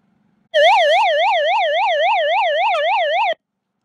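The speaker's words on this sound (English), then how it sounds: "Sounds like a police siren" A loud electronic police-style siren from a portable Bluetooth speaker's SOS function wails in a fast, regular up-and-down warble for about three seconds, then cuts off abruptly.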